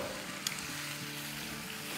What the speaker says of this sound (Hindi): और अब इसे हमें भूनना है